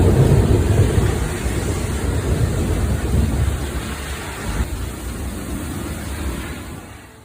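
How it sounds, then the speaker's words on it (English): A massive thunderstorm in eastern Tennessee brings a dense, roaring wash of heavy rain with deep rumbling underneath, loudest at first and then easing slightly, steady and close, with no voices. "A massive storm swept across eastern Tennessee, shaking everything in its path."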